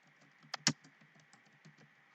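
A few quiet key presses on a computer keyboard, one or two sharp clicks followed by lighter scattered tapping, close and faint.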